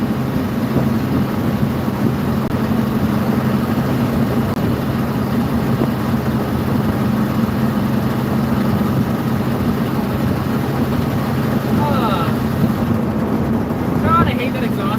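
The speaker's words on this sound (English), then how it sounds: "God, I hate that exhaust leak. It doesn't sound good. It sounds awful." A car engine idles with a rough, rumbling exhaust leak, a steady low drone that runs the whole time, with brief faint background noises toward the end.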